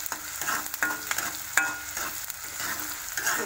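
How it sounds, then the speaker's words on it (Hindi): Curry leaves frying over a high flame for a Mangalore-style chicken ghee roast, giving a steady close sizzle with scraping stir strokes and a sharp crackle around the middle, no voices. "तो देखिए ऐसे फ्राई, बड़े हाई फ्लेम में ही फ्राई करना है आपको ऐसे अच्छी तरह से।"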